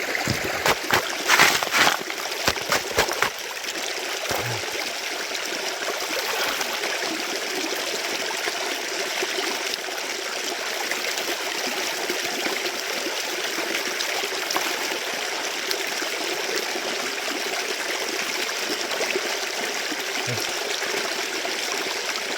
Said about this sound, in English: I think we're going to drain this hole here.